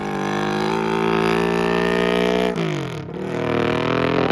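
A 350cc motorcycle streamliner accelerates at Bonneville, its engine note steady and loud with strong harmonics, then dipping briefly near the end before climbing again.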